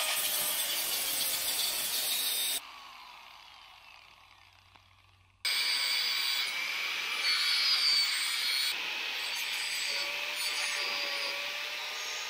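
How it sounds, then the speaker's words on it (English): A bolt end being ground square with a power grinder during bulldozer repair, a loud harsh continuous grinding that cuts out for a few seconds of quieter running, then resumes at full strength. "So I'll just grind a square end on this bolt."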